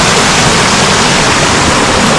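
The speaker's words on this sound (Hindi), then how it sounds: "पानी की आवाज़ देखें" Water rushes steadily in a forest stream near a deep pool about seven to eight feet deep, a loud, continuous broadband roar with no talk.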